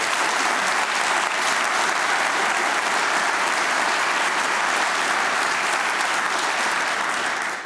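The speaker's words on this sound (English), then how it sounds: "let's a round of applause for BMO" Dense, sustained applause from an audience in a lecture theater at a special public lecture, loud and even throughout before tapering at the very end, with no speech over it.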